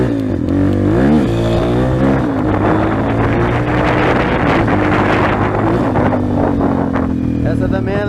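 Dirt motorcycle on a muddy trail in the rain, its engine loud and revving continuously, pitch sweeping up and down through gear changes, with wind buffeting the microphone throughout.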